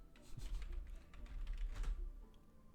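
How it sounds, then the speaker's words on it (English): Soft, quick keystrokes on a computer keyboard patter in irregular bursts, close and fairly quiet. "So I hope my typing noises are not too loud."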